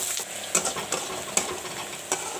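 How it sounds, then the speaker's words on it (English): Onions fry in oil in a pan, a steady close sizzle broken by a few sharp clinks of stirring at irregular intervals, with no talking. "I'll fry the onions brown."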